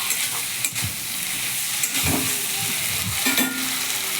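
Spice paste for a Bengali prawn and gathi kochu (taro) curry being stirred and sautéed in a pan, a steady close sizzle with several distinct scraping stirs of a spatula, no voices.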